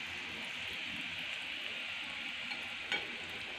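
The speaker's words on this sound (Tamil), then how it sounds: "எண்ணெய் நல்லா சூடாயிருச்சு, பூரி போட்டுடலாம். பாருங்கள் போட்டவுடனே நல்லா எலும்புது." Sweet potato pooris frying in hot oil in a home kitchen, giving a close, steady sizzle with no talk and one brief bubbling burst near the end.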